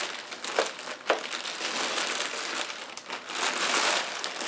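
Plastic packaging of an Eaton 3S 700 UPS being pulled open and unwrapped: continuous crinkling and rustling with a couple of sharper crackles, close and fairly soft, with no talking.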